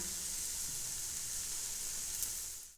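Grated coconut sizzling in a pan while cooking chana dal halwa, a soft, even hiss that holds steady and cuts off abruptly at the end, with no speech.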